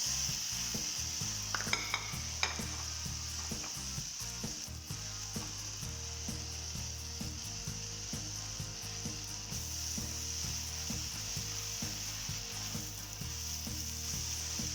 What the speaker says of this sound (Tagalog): Lagay natin ang ating palak, spinach.